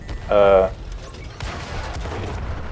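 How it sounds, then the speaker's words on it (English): Artillery shells landing in World of Tanks on console: a sharp tonal burst early on, followed by a low rumbling impact and scattered crackling blasts that fade under a steady background hum. "Artillery's taking shots now."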